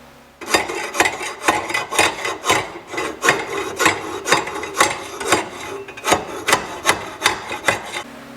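Rapid rhythmic rasping strokes saw through a plastic nylon tube inside a GMC motorhome, about two strokes per second, loud and close with no talking.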